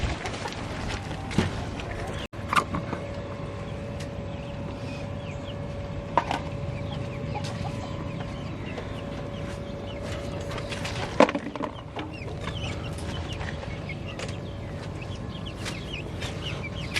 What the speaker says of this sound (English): we got the older chicks out in our chicken tractor that we made for our meat chickens